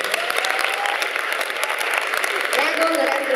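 Warm applause from a seated audience at the Florence Queer Festival short-film award ceremony, continuous clapping close by for several seconds with a faint voice underneath.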